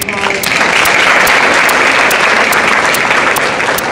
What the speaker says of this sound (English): Let's give Jay Ray another round of applause.